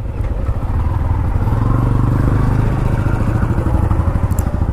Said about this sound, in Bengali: এখন তো আমি বাইক নিয়ে আইছি,